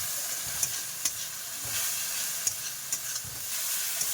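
Bay leaves frying in hot oil for a fish curry give a steady, soft sizzle, with a few sharp pops and stirring clicks scattered through it, close and moderately quiet.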